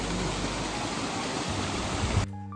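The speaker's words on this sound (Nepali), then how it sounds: "यो चाहिँ राफ्लाङ फल्स रहेछ।" Rafflang waterfall near Shillong, India, pouring in a continuous moderate rushing hiss of falling water that cuts off abruptly near the end.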